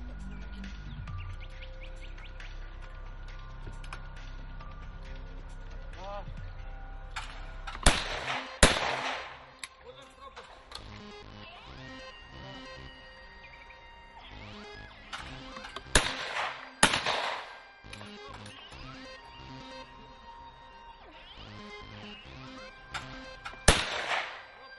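Shotgun blasts at a skeet shooting tournament, a few sharp loud reports spaced several seconds apart, some in quick pairs, over quiet outdoor ambience with birds chirping faintly and occasional distant voices.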